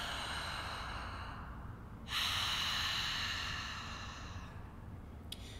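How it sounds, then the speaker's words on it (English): A long, hissing ujjayi breath drawn through the mouth with a throaty rasp, rising in the middle and fading out. Nobody speaks; quiet and close. "we're going to breathe in and out of our mouth so we can learn how to do it"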